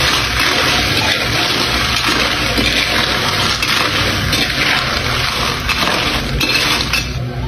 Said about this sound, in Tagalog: Ilagay na natin ng tubig.